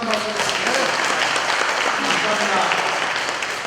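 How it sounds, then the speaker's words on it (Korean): Loud, sustained audience applause for musicians who have just played traditional Korean melodies at a talk-show event, a thick continuous roar of clapping. "아주 아름다운 우리 고유 가락을 연주해 주신 분들에게 다시 한번 힘찬 박수 드립니다"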